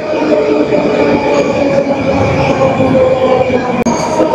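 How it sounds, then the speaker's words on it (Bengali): A Moscow metro train roars loudly and steadily into a station platform, a continuous heavy rumble with faint wheel squeal and no clear speech. "এই যে মেট্রো আসছে, খুব আওয়াজ করে।"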